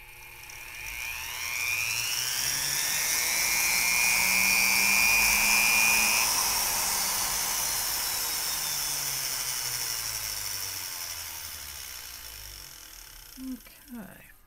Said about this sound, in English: I'm using diamond bits. And I'm working very slowly, and I'm not applying any pressure. I'm letting the tool do the work.